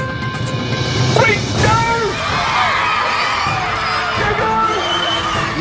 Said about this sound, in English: You see the kids, they're laughing and screaming and running as fast as they possibly can.